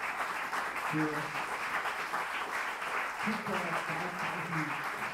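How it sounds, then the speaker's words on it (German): A concert audience applauds the band in a steady wash of clapping that runs through the whole stretch, with someone speaking German over it in bursts. "Danke nochmal, riesen Applaus"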